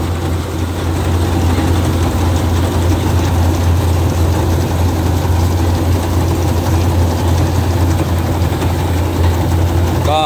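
A Kubota DC-95 combine harvester with a widened 105 header runs its engine at a steady loud drone, a continuous low rumble with a dense mechanical clatter layered above it.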